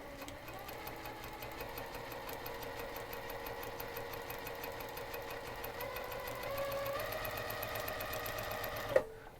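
A sewing machine chain-pieces quilt squares with a steady, close, mechanical whir that runs evenly, rises slightly partway through and stops with a short clunk.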